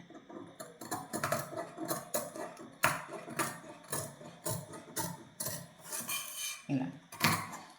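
Scissors snip through blouse fabric along a marked princess-cut line, a string of crisp, close cutting strokes in an irregular rhythm, with no talking.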